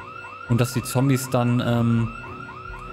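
A building alarm in the zombie survival game Project Zomboid wails on in the background, a repeating rising electronic tone under someone speaking German.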